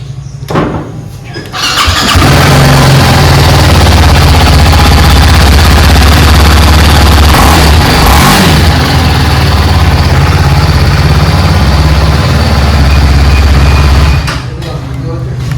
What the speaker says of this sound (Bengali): একবার স্টার্ট দিই একবার সাউন্ডটা শুনুন